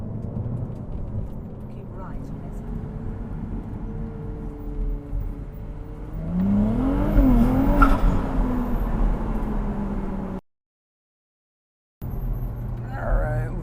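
Ferrari 296 GTB on the road, engine humming steadily, then accelerating hard with a rising, revving note around the middle, a cut to silence, and the drive resuming.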